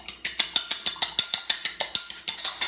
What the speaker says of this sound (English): Crack my egg in here, salt it, just a pinch, whisk it up.